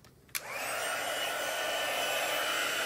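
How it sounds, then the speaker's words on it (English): A hair dryer drying a watercolor card, switching on with a click and then running as a steady, loud, continuous whoosh close to the microphone with no talking. "you're gonna have to excuse the noise for a minute while I dry this"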